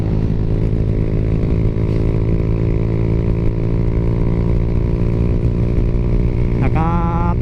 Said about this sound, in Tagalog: Naka power pipe ta nga way silencer.